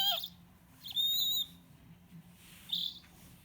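A Hedwig owl puppet toy from Universal Studios plays its electronic owl call, three short bright hoots spaced over a few seconds above a low steady room hum, with no talking.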